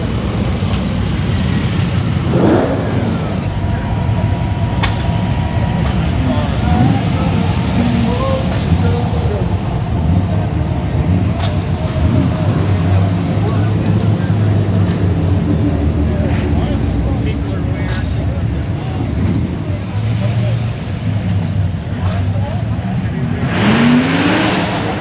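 A classic convertible with a 4-speed cruises at a car show, its engine rumbling steadily throughout with a revving surge near the end, while crowd chatter and voices run underneath.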